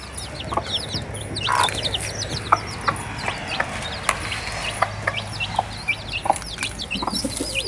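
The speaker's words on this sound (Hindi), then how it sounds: "ये देख ली मुर्गी बुला रही है अपने बच्चों को, किस तरह की आवाज़ कर रही है" A hen clucks repeatedly, calling her chicks, with a steady series of close, short clucks over a chorus of high chick peeps, mixed with light farmyard background noise and no talking.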